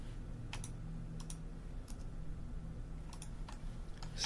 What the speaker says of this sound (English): I'm just hitting the space bar to unselect that tool